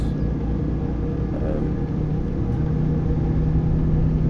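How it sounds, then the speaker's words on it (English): A Mercedes-Benz MP5 truck engine in Euro Truck Simulator 2 rumbles with a deep, bassy, steady drone that stays loud and even throughout with no talking. "It's a very different sound. It's very bassy, these new engines on these."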